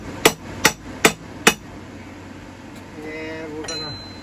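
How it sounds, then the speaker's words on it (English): A hammer strikes a stone set, a masonry-style chisel for cutting stone, four sharp metallic blows at an even pace, followed by a quieter stretch with a faint tonal whine and brief speech near the end. "Now I am using a stone set, which is like a masonry chisel"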